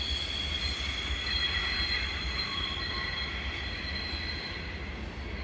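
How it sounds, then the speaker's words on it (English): A mixed freight train with loaded old wood chip cars rolls steadily past, with continuous rumbling and high metallic wheel squeal, loud and close, with no talking. "Nope, it's a mixed freight."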